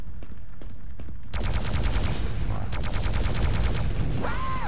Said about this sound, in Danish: Ej, hun har kun machine gun. Det er det svageste våben.